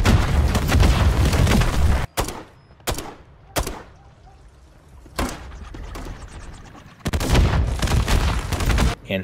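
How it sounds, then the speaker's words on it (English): Spawn tubes launched and bursting in Modern Warfare III, heard as a dense roar of gunfire and booms broken by several sharp, loud blasts with short quiet gaps between them. "aim right in between the power line and the roof, aim right in between the two, and shoot your last three tubes"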